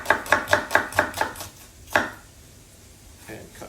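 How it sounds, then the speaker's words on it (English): A knife chops through onion on a cutting board, with six quick evenly spaced thuds followed by a single later chop and a faint clatter, close and clear. "cut the onion in half"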